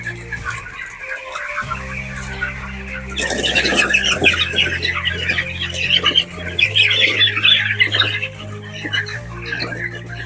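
Several broiler chickens squawk and cluck in overlapping bursts over a steady low hum, loud and close, with some background chatter.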